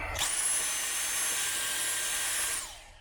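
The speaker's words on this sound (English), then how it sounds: "Little vacuuming." A vacuum cleaner runs inside a VW T6 campervan, starting abruptly and holding a steady, loud, close whine with airy hiss for a couple of seconds before it cuts off, with no talking.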